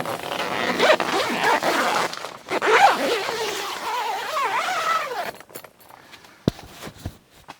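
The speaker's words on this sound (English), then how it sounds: "you can zipper up this full waterproof double stitch seam" A zipper is pulled along the waterproof, double-stitched entry door of a truck bed tent in several quick, rasping strokes, close and clear, followed by a few soft fabric rustles and taps.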